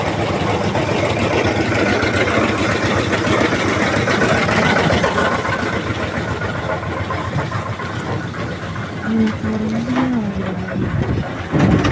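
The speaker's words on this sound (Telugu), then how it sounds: "మోటార్ అట వేయాలట చూడండి" A motor engine runs at a building construction site during slab work, a dense, steady mechanical drone that fills the scene without a break, with a brief tonal rise near the end.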